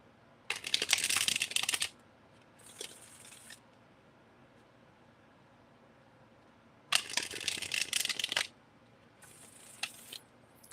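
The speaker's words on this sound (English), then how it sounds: "let me shuffle the question into the cards." Tarot cards are shuffled in two pairs of bursts, each a crisp riffling flutter followed by a shorter, softer shuffle, close and clear with near silence between.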